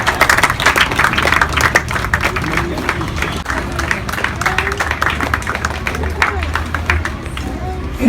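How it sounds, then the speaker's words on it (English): A crowd applauds at a school graduation ceremony, with many hands producing a sustained, crisp patter of claps. Crowd murmur runs underneath and the applause stays lively and close for the whole stretch. "Big round of applause to all my senior friends."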